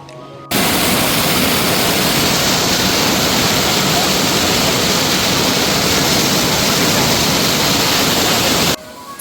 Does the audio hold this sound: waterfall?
yes